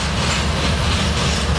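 A freight train rolls steadily along the railroad near Fort Wayne, Indiana, with a loud, continuous broadband rumble and wheel clatter close by and no voices.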